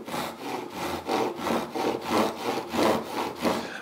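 A hand pull saw cutting freehand through wood in steady back-and-forth strokes, about eight rhythmic rasping passes, close and fairly loud with no talking.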